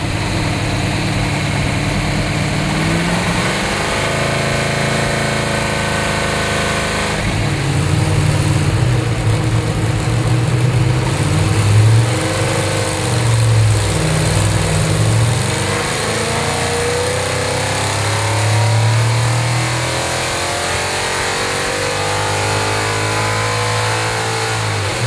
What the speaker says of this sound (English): we allowed the engine to idle until the oil warmed up and then let her rip.